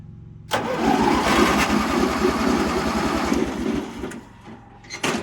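Starter cranking an 18HP MTD Yard Man hydrostatic riding mower engine, powered by a booster pack in a barn-find restoration, a loud, close, rhythmic churning that runs about three and a half seconds before slowing, with a short burst at the end.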